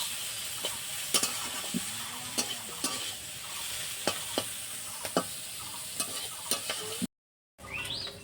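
Sliced bitter gourd fries in oil in a home kitchen pan, a steady sizzle broken by about a dozen sharp clinks and scrapes as it is stirred, ending in a brief silence before the sizzle returns.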